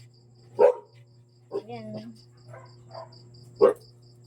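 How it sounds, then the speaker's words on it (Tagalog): A dog barks twice, sharp and fairly close, with a few short yips between, over a steady low hum and a faint voice. "Yan ang aso ko."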